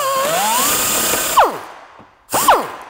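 A power drill with a long bit grinding off bolt heads behind a Honda Pilot rear bumper, a loud whining high-speed spin that winds down, then two short sharp bursts of revving and braking.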